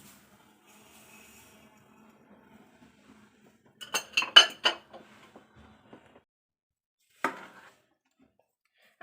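Sugar and spices such as turmeric being mixed for a sweet-sour-spicy coriander leaf pickle: a quiet stretch, then a burst of spoon-and-bowl clinks and scraping in the middle, and one more short clatter near the end, with no talking.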